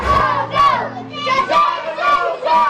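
A crowd of local residents cheers "Tzu Chi" together, a loud repeated two-syllable chant in rhythmic bursts about every second, close and full.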